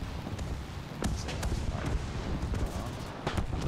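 An aircraft's machine guns fire in War Thunder in rapid, irregular bursts of sharp cracks over a constant roar of engine and wind, with one voice talking now and then.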